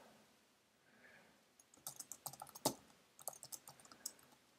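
Typing on a computer keyboard, a quiet, close flurry of irregular key clicks with one sharper keystroke, starting after a second and a half of faint room noise.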